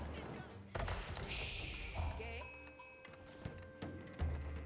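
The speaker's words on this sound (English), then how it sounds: "That was a neutral sheep, so the neutral sheep does get killed off." In the Age of Empires 4 video game, a sheep bleats as it is killed, with soft thuds and other game sounds around it and no clear talk.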